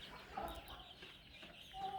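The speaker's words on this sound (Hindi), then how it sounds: "बाकी मुर्गियां और मुर्गे" Hens and roosters on a small home poultry farm clucking softly and continuously, fairly distant and low in level with a steady background hiss.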